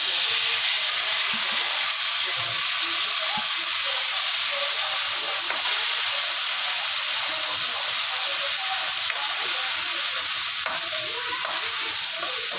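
Tomatoes sizzling and frying in an oil pan with chili and curry leaves, a loud steady hiss with crackles and occasional stirring, no talk.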